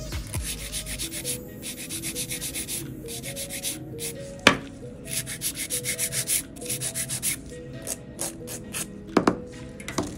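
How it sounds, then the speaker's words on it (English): A 100/180 grit nail file rubs back and forth across a dip-powder nail in quick, rhythmic scratchy strokes, close and fairly quiet, with brief pauses and a few small taps between passes. "use our SNS files of 100 or 180 grits to give it a nice file"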